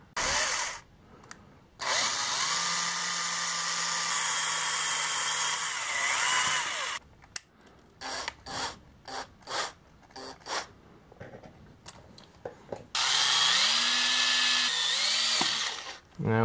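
A power drill drives wood screws into an engine crankshaft seal in the crankcase, heard as long, loud, steady whirring runs with shorter stop-start bursts in between, close up.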